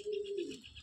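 A Madrasi pigeon of an old antique collection gives a single short, close coo, lasting under a second.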